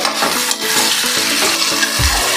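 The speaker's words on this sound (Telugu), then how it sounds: "కొద్దిగా ఆయిల్ వేసుకొని మంచిగా ఫ్రై అయ్యేలా చూసుకోవాలి" Onion and tomato sizzling in a little oil, being stirred in a pan in a village-style kitchen: steady crackling hiss with repeated scraping stir strokes and a clunk of the utensil at the end.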